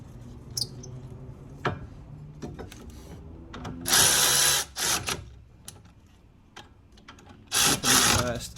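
Power tool tightening the front brake caliper bolts on a Fiat 500: two short, close whirring bursts, separated by quieter handling noises and a few clicks.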